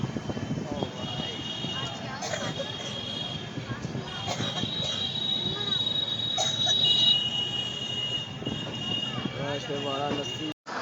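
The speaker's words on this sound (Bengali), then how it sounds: "তো ফাইনালি আমাদের ট্রেন চলে এসেছে বারাণসী জাংশন" An express train rolls into Varanasi Junction, a loud continuous rumble of wheels on rails with sustained high-pitched brake and wheel squeal over the middle stretch and scattered metallic clanks, with voices on the platform underneath.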